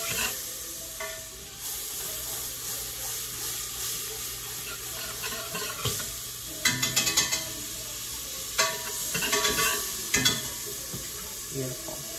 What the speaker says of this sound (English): You will need a whisk for this part as well